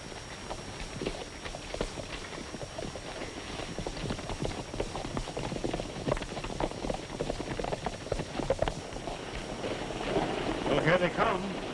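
Horses gallop in a 1936 western film, a fast, continuous clatter of hoofbeats that grows louder and nearer toward the end, with faint background noise.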